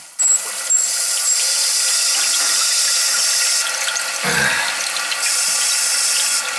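Toilet tank water running steadily after a flapper repair, a continuous broadband hiss of refilling water with a brief gurgling flush-like surge partway through.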